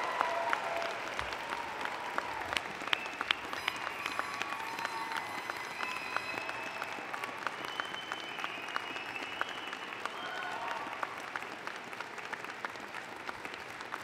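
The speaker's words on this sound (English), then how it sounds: "I ask your friends, family, and members of the platform to join me in applauding the amazing graduating class of" Sustained applause from a large convocation audience honouring a university graduating class, steady dense clapping with crowd murmur throughout, no speech over it.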